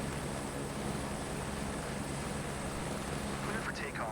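A simulated aircraft engine roars in a flight simulator game as the plane begins its takeoff roll, a steady broadband drone holding at constant loudness throughout, with a voice briefly heard over it.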